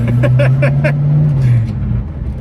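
A Chevelle fitted with a racing tire roars through a burnout, a loud steady engine drone with rhythmic pulses that fades off toward the end.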